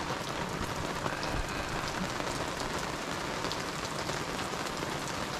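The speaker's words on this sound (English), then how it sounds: "Let me show you how much it's raining up here." Steady, dense hiss of heavy rain pouring down, constant and enveloping with no voices.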